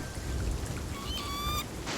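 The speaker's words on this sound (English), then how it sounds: "Just got struck by lightning twice in like 5 seconds." Lightning crack and thunder rumble during a stormy sea in Sea of Thieves, a low rolling rumble under rain-like hiss with bright ringing tones cutting in briefly.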